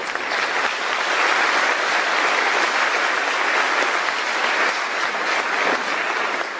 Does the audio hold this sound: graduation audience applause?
yes